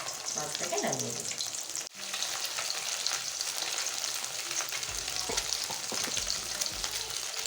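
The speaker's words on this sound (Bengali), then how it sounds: "মাছটাকে উল্টে দিলাম।" Pieces of katla fish fry in hot oil in a pan with a steady, dense sizzle, broken by a sharp knock and a brief clatter as a piece is turned, close up throughout.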